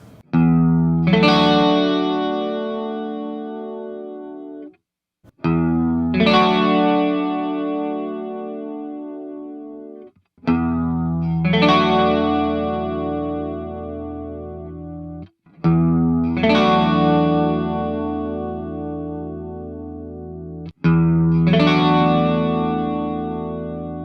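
Five long sustained synth chords through a Roland Dimension D rack chorus, each ringing for several seconds with a thick, shimmering chorus effect and a gentle decay, separated by brief silences.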